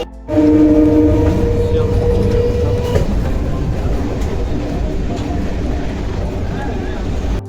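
A local train rumbles and clatters as it pulls away from a station in Kolkata, with a short horn blast near the start and voices in the background.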